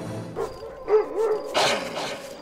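Dogs in STALKER: Shadow of Chernobyl give a few short barks and yelps over a couple of seconds, fairly close and mid-loud against quiet game ambience.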